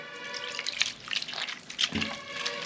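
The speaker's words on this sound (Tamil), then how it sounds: "எடுத்து நல்லா போட்டு கரைச்சிடுங்க கொஞ்சம் தண்ணி ஊற்றிக்கோங்க" Water splashes and trickles into pearl millet being mixed for kambu koozh, a few close, uneven pours and drips with no talking.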